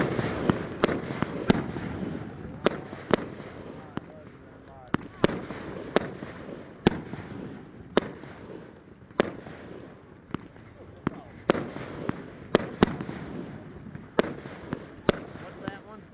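A PGI Lightning Family Stairway to Heaven 25-shot fireworks cake fires a steady series of sharp, distant-sounding shots and crackling bursts over about sixteen seconds, with faint voices in the background.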